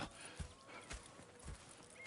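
Horses in the video game Red Dead Redemption 2, with soft hoof clip-clops at a steady walking pace over a quiet ambient background, fairly faint.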